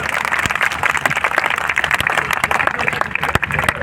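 A crowd at a kavi sammelan poetry recital in Bikaner, Rajasthan claps in loud, continuous applause, with a few sharper individual claps standing out.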